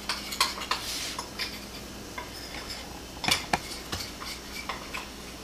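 A spoon stirring a sauce of cornstarch and curry powder in a bowl, with light, irregular scraping clinks against the sides, close and fairly quiet.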